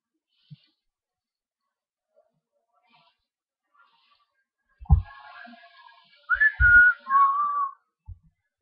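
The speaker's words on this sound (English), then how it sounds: "No, I am whistling." A person whistles a short rising and falling tune near the microphone, a few seconds of clear tones after some faint clicks and quiet, over a Diablo 2 game session.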